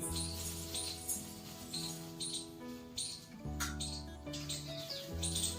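Sparrows being fed gathiya snacks give short, repeated chirps at close range, a regular run of bright tweets over a steady tonal background, with no voices.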